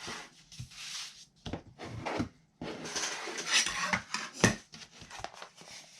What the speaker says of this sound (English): I'll use my spatula to go around and get my ends nice and crisp